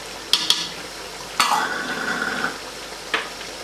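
Cream and milk powder are stirred together for a chicken karahi, soft scraping and wet stirring in a pot with a few light clinks of a utensil against metal, nearby and moderately loud.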